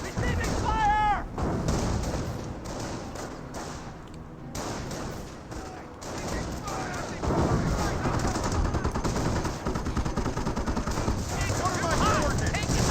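Anti-tank gun shots and other gunfire in a Company of Heroes battle crack and thud under fast, continuous talk from a commentator, with repeated sharp bursts and weapon fire throughout.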